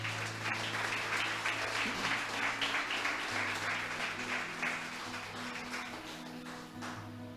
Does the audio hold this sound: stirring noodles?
no